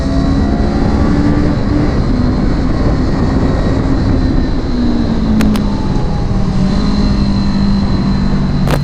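Motorcycle engine on a race circuit, a loud steady growl with shifting pitch as the rider downshifts, the roar continuous and close with rushing wind noise.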